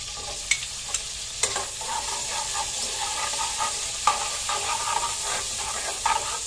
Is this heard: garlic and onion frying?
yes